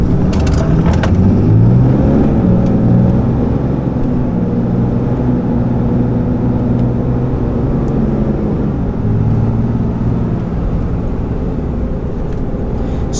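A RAM HD pickup truck accelerates hard from a stop, its engine roaring loud and close with a rising, sustained drone and no talking.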